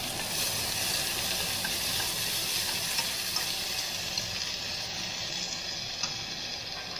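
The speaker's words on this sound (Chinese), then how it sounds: "我们这个时候就可以放入这个蘑菇片了" Mushroom slices stir-fried with garlic chive flowers in a pan, giving a steady, loud, even sizzle and hiss with faint scraping ticks throughout.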